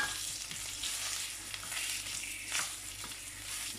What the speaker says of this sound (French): Là, notre viande commence à chauffer